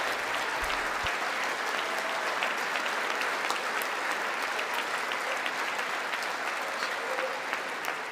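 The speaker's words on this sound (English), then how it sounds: "he wasn't prepared for that applause" Steady, sustained applause from a large crowd at a State of the Union address, dense clapping that holds at an even level throughout.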